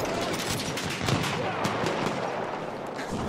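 An enemy machine gun fires on a Battlefield 1 battlefield in rapid, continuous bursts of gunfire. Other battle noise and faint voices sit underneath.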